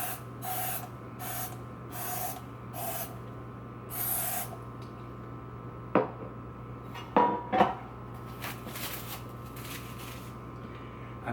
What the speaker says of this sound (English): I'm going to start by spraying the pan with no stick spray.